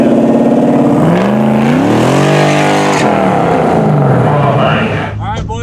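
A drag race car accelerating hard, racing a Nissan GTR on big drag radials, its engine roaring loud and close with rising pitch through the gears, with a voice breaking in near the end.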